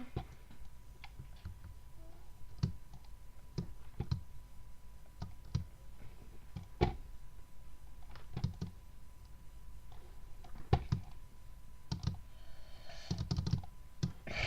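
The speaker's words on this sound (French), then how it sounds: "Désolée pour les bruits de clavier" A computer keyboard clacks in scattered bursts of soft, close keystrokes over a steady background hum, irregular and moderately quiet, with no talking.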